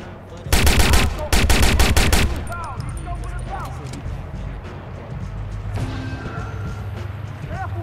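Sniper gunfire in the video game Watch Dogs comes in two loud rapid volleys of sharp cracks near the start, then fades into quieter game ambience with voices talking.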